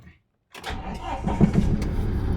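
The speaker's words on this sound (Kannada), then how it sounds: "ಇದು ನೋಡಿ ಗಾಡಿ ಸ್ಟಾರ್ಟ್ ಮಾಡ್ಕೊಂಡು ಹೋಗ್ತಾ ಇದ್ದೀನಿ." A car engine starts after a moment of silence at the outset of a road journey from Bengaluru toward Tirupati airport, then settles into a steady, close idle rumble.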